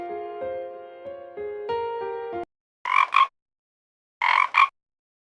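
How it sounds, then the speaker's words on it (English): After a short plucked melodic jingle, a frog gives two croaks, each a quick double burst, loud and close against silence. "What sound does a frog make? Croak, croak."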